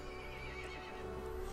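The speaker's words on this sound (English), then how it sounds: "The horse grew angry and summoned the other monsters." A horse neighs in the game Resident Evil Village, a faint whinny over a steady low ambient drone with soft hoof-like clatter, no voices.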